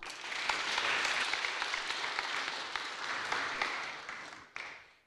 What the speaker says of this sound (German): bitte um einen großen Applaus für das Team Cookie Crumbler